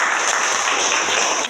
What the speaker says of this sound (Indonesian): Jadi mari kita beri aplaus dulu untuk kelompok